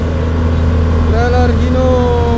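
Hino trailer truck engine straining on a steep hill at Bukit Kodok, a loud steady low rumble with a rising whine as the engine revs, heard close alongside a voice.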